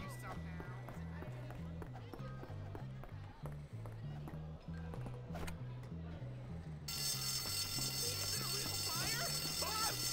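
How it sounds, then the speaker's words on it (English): A school fire alarm rings in the video game Bully, a continuous pulsing electronic tone over game background noise, growing louder and harsher toward the end. "Let's pull the fire alarm."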